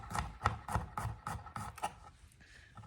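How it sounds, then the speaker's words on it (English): A knife chops two garlic cloves on a cutting board, about eight quick, evenly spaced close knocks over two seconds, then a softer scrape, with no talking. "I'm going to just chop up 2 cloves of garlic"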